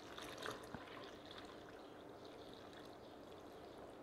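Slightly warm water poured into flour for a no-starter sourdough dough, a steady soft trickle and splash running on for several seconds, fairly quiet and close, with no talking.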